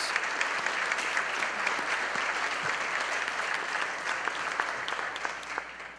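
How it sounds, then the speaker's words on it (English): Applause at a school district employee retirement ceremony honoring retirees, a long, even round of clapping from a sizable audience, moderately distant, with a few sharper individual claps standing out. "Let's give them a big round of applause."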